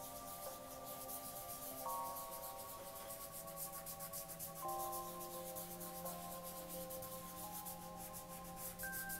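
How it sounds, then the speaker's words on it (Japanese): A soft pastel stick scraped directly onto paper for pastel art, a steady dry rubbing rasp that continues for several seconds, close and fairly quiet, with faint tonal background music underneath. "こちら上の方に削って直接削っていきます。"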